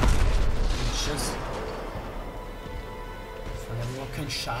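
Gunfire and heavy booming blasts from Titanfall 2 rumble through a dense, noisy battle mix, with someone talking over the game sounds.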